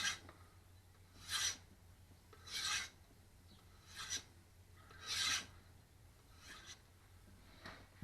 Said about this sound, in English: Couple of strops to the micro bevel angle.